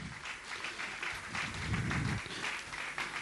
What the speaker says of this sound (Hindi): आप लोग तालियां बजाते रहिए जब तक सम्मान का क्रम चल रहा है